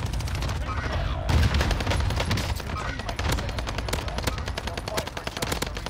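Rapid automatic gunfire in Call of Duty: Warzone on the Caldera map rattles in dense, continuous bursts, loud and close, with players' voices faintly beneath.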